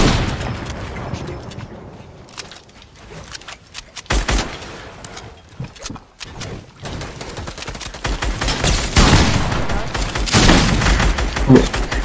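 Rapid gunfire in a French-played video game shooter, dense bursts of automatic shots with booms, loud and continuous, with brief quieter gaps and faint voices in the background.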